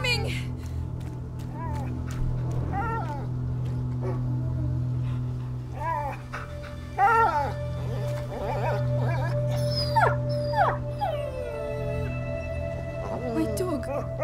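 Dog whimpering and howling in A Plague Tale: Innocence, repeated whines and yelps rising over a steady low hum, with some speech woven through.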